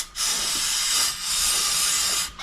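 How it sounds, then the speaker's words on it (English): An aerosol can of carburetor cleaner sprays into a snowblower carburetor in long hissing bursts, loud and close, with a brief pause between the two main sprays. "I'll spray the carb"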